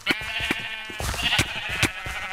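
Sheep bleat in the Minecraft video game, several wavering calls in quick succession, clear and close with no talk over them.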